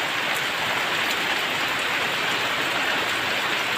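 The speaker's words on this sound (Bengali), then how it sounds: "বৃষ্টি কিন্তু নেমে গেছে, এই দেখো। আর বৃষ্টিটা মোটামুটি ভালোই জোরে হচ্ছে।" Heavy rain pours down in a steady, dense hiss that stays loud and unbroken throughout, with no voices.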